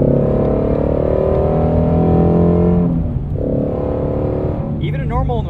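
A 2020 Ford Mustang Shelby GT350R engine hums steadily while driving, then its pitch climbs and falls as it revs near the end, with someone talking over it.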